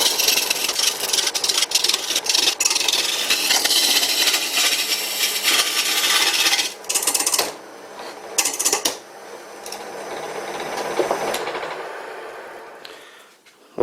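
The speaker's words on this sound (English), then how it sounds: "I guess it isn't a proper test till I used my homemade gouge." Wood being turned on an old wooden lathe with a homemade gouge, a steady loud scraping hiss of the cut with motor hum, broken by a couple of pauses and an abrupt catch near the end, no talk.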